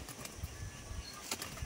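A pair of Madrasi pigeons released from a loft, faint quick bursts of wing flapping and soft fluttering, brief and quiet.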